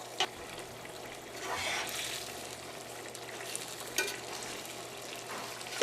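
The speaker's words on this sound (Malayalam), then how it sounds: "കറിയുടെ ഗ്രേവി നന്നായിട്ട് തിളച്ചിട്ടുണ്ട്" Chicken curry gravy, Karaikudi kozhi kuzhambu style, bubbles and sizzles in a pan with soft continuous simmering and a couple of brief clinks, close and moderately quiet.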